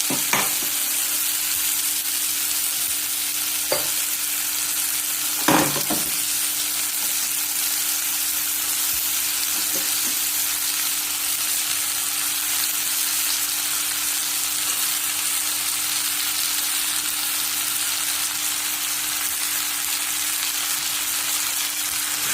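Sprouted cowpeas stir-fried in a pan, giving a constant, even sizzle with a few scraping stir strokes early on, close and steady for the whole stretch.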